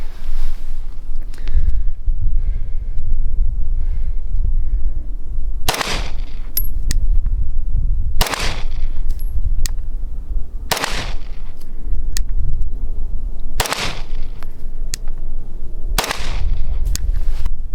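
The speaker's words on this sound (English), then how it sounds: "we're gonna shoot a couple more shots just to confirm we're at zero at 25" A Glock 34 pistol fires single sharp shots outdoors at a 25-yard range, about six loud cracks spaced a few seconds apart over a constant wind rumble.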